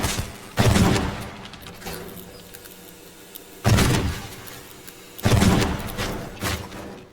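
A shotgun fires in the video game Teardown, with three loud, sharp blasts spaced a few seconds apart. Each shot fades out into quiet background room tone.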